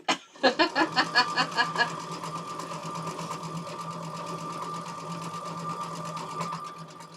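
A sewing machine stitches straight lines at a quick pace. A few separate thumping stitches at the start speed up into a steady, fast, close mechanical chatter with a constant hum underneath.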